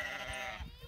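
Sheep bleating as they are moved onto a lush new paddock of tall grasses in a rotational grazing setup, a short close call or two carrying over steady outdoor background with no talk.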